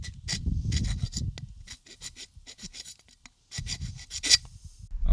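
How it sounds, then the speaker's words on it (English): A metal file rasps along the cut edge of a sliding gate rack in quick, repeated scraping strokes, up close and fairly quiet, with a short lull midway. "I'll just use a file here just to smoothen out the material"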